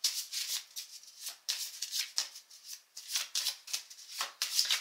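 Tarot cards are shuffled by hand in quick repeated riffling bursts, crisp and close, with a steady uneven rhythm and no talk.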